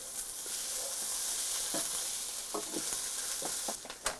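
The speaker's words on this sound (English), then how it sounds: "Stir the potatoes." Potatoes fry in a pan with a steady hissing sizzle, broken by several scraping strokes of a utensil stirring them, close by and moderately loud.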